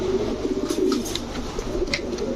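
White homing pigeons, including a neck-marked male and a red-eyed female pair, coo softly and steadily in a loft, with low throaty calls repeating over a faint background hum.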